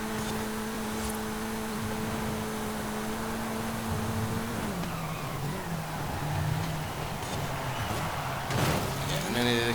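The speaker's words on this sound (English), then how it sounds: "Curbs that we end up hitting as well is upsetting the car." A Renault Clio R.S. 16 Concept races in Forza Horizon 5, its engine a steady tonal drone that drops in pitch midway and then wavers as the car bumps over curbs, with brief noisy thumps near the end.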